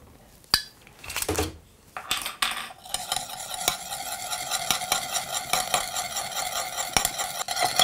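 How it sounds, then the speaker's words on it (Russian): Olive oil being whisked into a thin krill and potato salad dressing in a small bowl: a steady, busy scraping and clinking of a utensil against the container, continuous after a few sharp knocks at the start, close and fairly loud. "Взбиваем оливковое масло"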